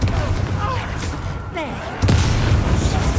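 A Confringo blast spell erupts in a Hogwarts Legacy duel, a loud booming impact landing near the two-second mark amid dense game effects and music, with a voice speaking over the din.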